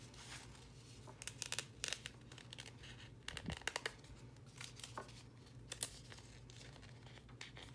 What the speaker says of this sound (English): I'm gonna cut out this lavender.